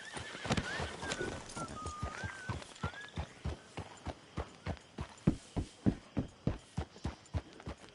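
A horse in Red Dead Redemption 2 whinnies loudly at the start, then gallops with a steady, rhythmic clip-clop of hooves that grows stronger and more even toward the end, with no talking over it.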